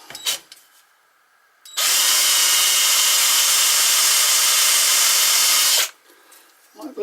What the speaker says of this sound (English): see if this drill's any better than the last one